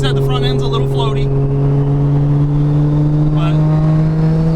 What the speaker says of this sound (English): I gotta get used to driving the car again.